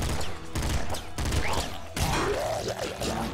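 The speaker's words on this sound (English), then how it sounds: "I'm definitely going to stick with this assault rifle just because of the fire range that it allows me." Assault rifle gunfire in Nuclear Throne, rapid bursts of sharp shots in quick clusters with short gaps, mixed with whooshing and warbling game effects, loud and close.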